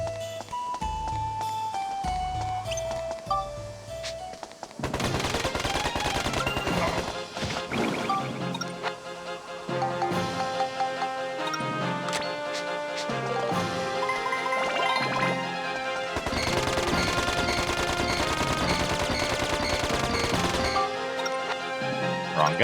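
Gunfire from a gun in Dark Cloud 2, a short melodic jingle giving way to long bursts of rapid, sharp shots and crashing impacts that repeat loudly in clusters with brief pauses between.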